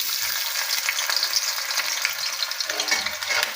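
Halved, sliced onions hit hot oil in a pan for duck karahi, giving a loud, continuous close-up sizzle with crackling and occasional stirring, and no voices.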